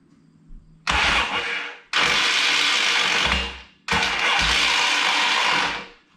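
Starter motor on a 1978 Yamaha XS650 motorcycle cranking in three long bursts, each a harsh grinding whir lasting about one to two seconds, with short pauses between and no engine catching.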